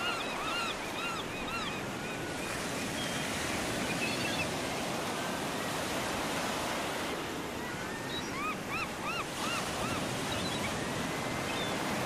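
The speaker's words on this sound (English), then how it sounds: "Nothing like a relaxing day at the beach" Ocean surf rolls continuously at a beach with a broad, steady roar, some wind buffeting, and faint bird chirps above it.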